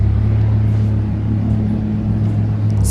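A Dodge Viper GTS ACR's engine rumbles loud and close in a deep, steady idle while the car is turned around, the low drone holding for the whole stretch without voices.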